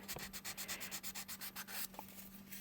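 A UMP sander reshaping a car body kit, giving a steady run of rapid, rhythmic sanding strokes close by, ending with a brief sharper rub, no talk.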